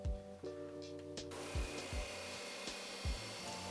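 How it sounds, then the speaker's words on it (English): A disc sander rounds off the edge of a wooden children's Montessori shelf: a motor hum spins up into a steady, loud grinding whine, with a few dull low thumps as the wood presses against the disc. "I then used a combination of my jigsaw and my disc sander to round off that edge."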